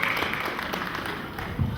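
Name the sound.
congregation applauding at a church evening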